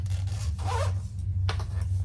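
A zipper on a handmade crossbody bag is pulled in two quick rasping strokes, close and clear over a steady low hum, with no talking.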